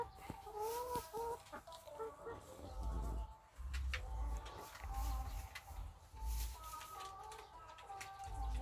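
Young pullet laying hens, recently bought, cluck and chirp in a small backyard flock of about twenty, with repeated near calls and a low rumbling thump recurring underneath.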